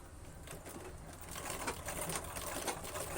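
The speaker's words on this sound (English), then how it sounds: "Set your machine, set your needle at the top here. The top, and you start your sewing." Sewing machine stitching a handmade pearl fashion bag, a steady close mechanical whir with light rhythmic clatter running throughout, no talking.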